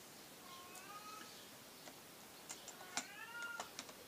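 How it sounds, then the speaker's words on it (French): Cat meows indoors, two faint rising-and-falling calls separated by a pause, with soft ticking and small clicks in a quiet room. "Ah, j'ai le chat qui chante."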